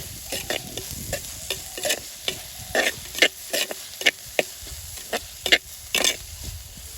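Curry leaves and potato fry in a pan in a Jaffna-style village kitchen, with a soft sizzle under repeated sharp scrapes and taps of a stirring spoon in an uneven rhythm.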